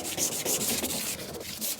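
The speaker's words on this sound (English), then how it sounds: "less talk, more sanding." Steady, continuous abrasive sanding on a metal truck cab surface, close and fairly loud, with rhythmic scraping strokes and no talking.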